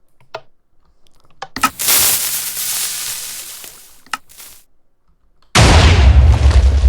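Minecraft TNT cannon firing in a video game: a sharp click, then a loud sustained blast burst that decays over a few seconds, a couple of quick pops, and a second heavy roaring explosion near the end, alone without talk.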